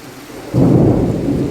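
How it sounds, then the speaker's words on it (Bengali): Loud thunder rumbles in suddenly over a heavy downpour during a thunderstorm, with dense rain hissing on surfaces after a quieter start. "কি বিদ্যুৎ চমকাচ্ছে দেখছো, শব্দ কি, বাপরে বাপ!"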